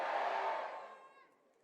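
A crowd at a Haryana National Youth Day rally roars a loud collective cheer, a broad burst of many voices that swells briefly and then fades away.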